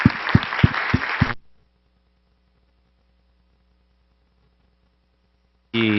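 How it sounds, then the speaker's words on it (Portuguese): Audience applause at a conference panel on financing the bioeconomy, a dense burst of clapping for about a second, then near silence, with another loud burst returning at the very end. "acho que a gente pode fazer uma outra salva de palmas para o resultado que a gente tem."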